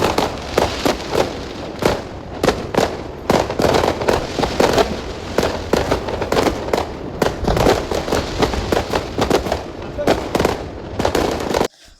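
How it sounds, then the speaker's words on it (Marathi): Firecrackers and fireworks burst outside during a Lakshmi Puja celebration, a dense, continuous barrage of sharp cracks and pops, some near and loud, others distant, with faint voices in the background. "बाहेर मोठ्या गाडीची पूजा करत असताना फटाक्यांचा आवाजच खूप येत होता"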